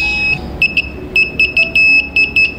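A small electronic buzzer fitted to an old multimeter sounds a series of short, sharp high-pitched beeps in an irregular rhythm, loud and close, with a faint background hum.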